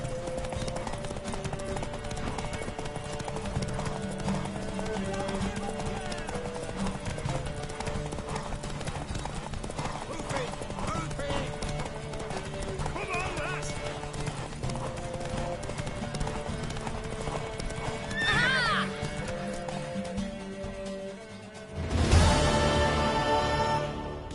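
Horse hooves clip-clopping steadily through The Witcher 3, with a brief neigh near the end, all under a continuous bed of game music and ambience.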